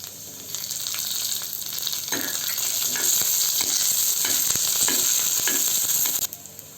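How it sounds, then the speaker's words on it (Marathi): Garlic and green chilies fry in a pan with roasted peanuts for raw mango thecha, a loud continuous sizzle with scraping stirring strokes, close up, ending abruptly. "लसूण पण दोन ते तीन मिनटं परतवून घ्या आता आपण त्याच्यामध्ये मिरची घालून घेऊ"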